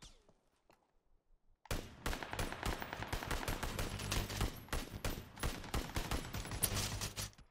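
Gunfire in the video game PUBG on console, starting abruptly after a near-silent lead-in with loud rapid automatic bursts and overlapping shots that continue to the end, with no talking.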